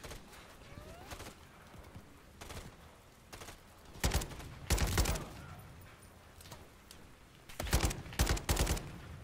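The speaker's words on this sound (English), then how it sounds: "And do some shooting." Gunfire in Call of Duty: Modern Warfare 3, on the Highrise mission: scattered single shots, then two clusters of loud rapid bursts, with quieter ambient battle noise between them.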